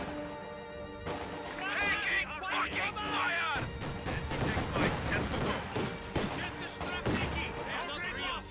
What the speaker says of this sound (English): Ooh, what was that? Mine, I think. Yeah, mine.